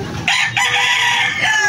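Young gamefowl rooster crowing close by, a single short, loud crow in a few bursts with no talking over it.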